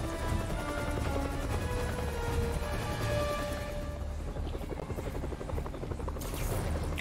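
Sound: helicopter in Marvel's Spider-Man PS4 video game

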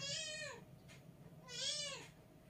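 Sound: cat meowing

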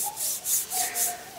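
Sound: scrubbing a metal axle with a Scotch-Brite pad

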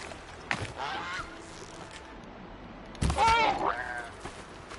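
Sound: goose honking in video game Horizon Zero Dawn

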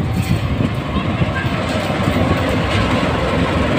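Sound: Argo Sindoro passenger train passing

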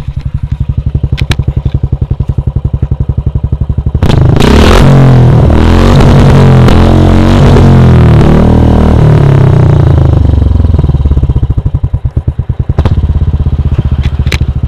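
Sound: modified Royal Enfield Classic 350 motorcycle exhaust revving

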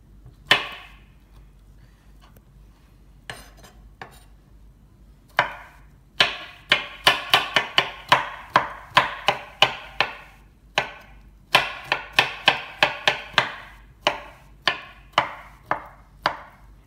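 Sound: chopping carrots into small cubes

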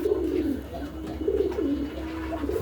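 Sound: new pigeons cooing

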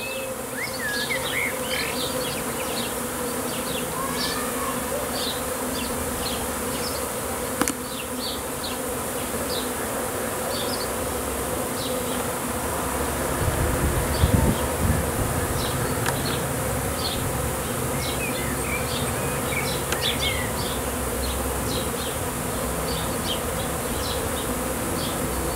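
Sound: swarm of black honeybees arriving

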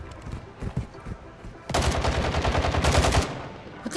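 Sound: gunfire unloading a whole clip in a video game

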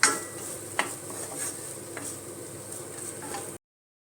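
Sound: masala sautéing in a pan

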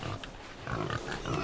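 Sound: pig from a video game

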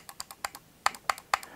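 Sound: computer mouse right button clicks

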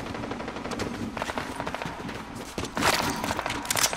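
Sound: gunfire in the video game Fortnite

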